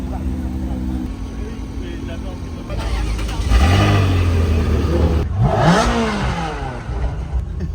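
A Porsche GT3 RS sports car engine revs and accelerates nearby, pitch sweeping upward twice as it pulls away, with people talking over the roar.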